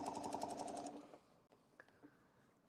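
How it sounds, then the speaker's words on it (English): A sewing machine stitches along the edge of a template in a rapid, steady burst that runs loud for about a second, then stops, leaving a few faint clicks and handling sounds. "I'm going to do a couple of stitches right in that line."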